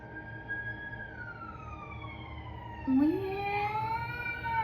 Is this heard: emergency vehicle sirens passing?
yes